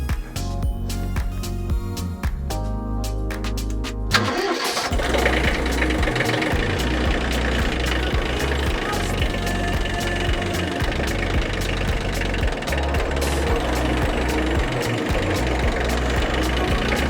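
A tractor engine cranks over in a rough, juddering rhythm, catches and settles into a loud, continuous diesel-style running rumble at close range in a garden workshop setting.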